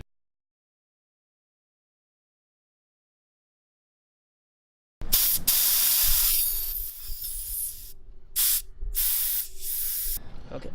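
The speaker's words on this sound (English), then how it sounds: "the next step is to slowly deflate the tire" Air hisses loudly out of a tubeless bicycle tire on an Irwin wheel as it is deflated. A steady spray-like rush starts after about five seconds of silence and runs to the end, cut by several brief pauses.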